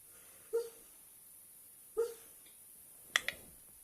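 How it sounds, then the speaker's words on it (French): A sleeping dog named Zéphyr whimpers during a nightmare, giving two soft muffled yelps about a second and a half apart, then a sharper brief squeak, quiet and close in a still room. "C'est mon chien qui cauchemarde."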